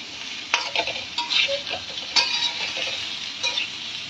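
Potatoes with salt sizzling lightly in a pan while a spoon stirs and scrapes, with occasional metallic clinks over a steady frying hiss; no talking.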